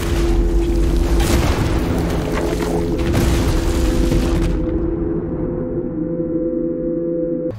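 A deep, rumbling boom from an explosion in the horror game Scorn rolls out loud and heavy, then fades into a sustained low drone with a steady hum.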